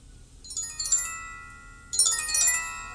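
A phone's alert tone goes off in two bursts of chiming, rising notes, moderately loud and close, with no voices.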